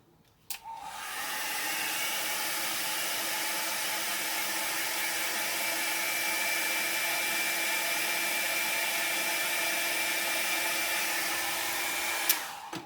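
A hair dryer blows steadily on alcohol ink for about twelve seconds, a continuous close whooshing hum that starts and stops abruptly, with no talking.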